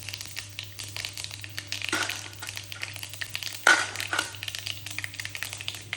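Chopped onions sautéing in sesame oil with tempering spices of mustard seeds, urad dal, cumin and fenugreek, giving a steady close sizzle and crackle with occasional stirring scrapes and no talk.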